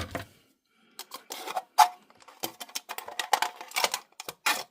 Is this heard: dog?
no